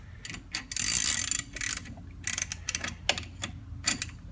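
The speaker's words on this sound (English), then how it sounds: "finish one tooth, take off the offset, stop the machine" A gear shaper cutting an involute gear tooth makes a string of irregular mechanical clicks and ratcheting bursts over a low machine hum as it is brought to a stop.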